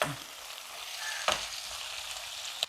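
Chopped tomatoes and curry leaves sizzle steadily in a hot pan, a continuous close hiss with a couple of sharp clinks of a utensil against the pan, no talking.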